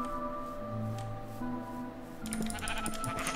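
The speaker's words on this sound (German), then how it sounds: "Da sind noch Schafe" Sheep in Minecraft bleat several times, short nasal calls repeating in a steady back-and-forth over a layer of game music and ambience, ending with brighter chiming tones.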